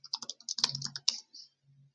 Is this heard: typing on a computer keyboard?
yes